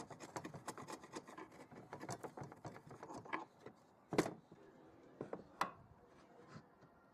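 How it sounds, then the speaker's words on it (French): Pallet wood joints for a rustic bottle rack are pared clean with a wood chisel, giving quiet, repeated scraping and rasping strokes with a few sharper knocks and taps near the end. "Je peux maintenant nettoyer ces assemblages avec un ciseau à bois."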